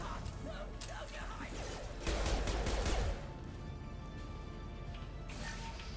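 Gunfire in the video game Mass Effect 2, a steady crackle of shots with a louder, heavier burst of fire in the middle, with no voices over it.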